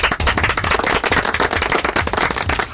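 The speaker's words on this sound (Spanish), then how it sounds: "Un aplauso, por favor." A live audience breaks into dense, steady applause, many hands clapping together at close range, loud and unbroken for the whole stretch with no voices on top.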